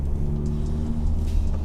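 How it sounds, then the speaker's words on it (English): Steady low engine rumble and road noise from inside a Honda Civic Type R driving through heavy traffic, continuous and fairly loud with no breaks. "So obviously we got a lot of traffic."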